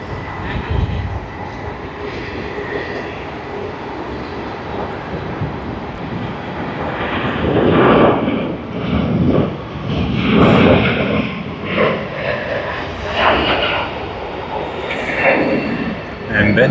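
A passenger jet airliner at Sydney Airport sends a broad, rising and swelling engine roar that fills the scene at moderate distance, with a voice talking over it.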